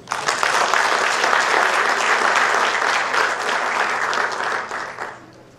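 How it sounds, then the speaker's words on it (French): Warm audience applause at a Moroccan film event in Liège, Belgium: dense, steady clapping from a crowd that holds for about five seconds, then thins and fades out. "M. Rabi Akati et M. Rabi Jouhari, que je vous demande d'applaudir chaleureusement."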